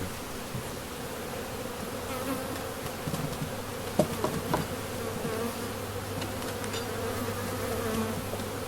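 A dense, steady hum of many honeybees buzzing close by around a hive's honey super, with individual insects droning louder as they pass near.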